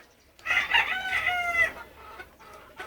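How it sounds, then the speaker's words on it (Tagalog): A chicken clucks and crows in a short, bright burst of harmonic calls, fairly close and loud over quiet background. "Chicken."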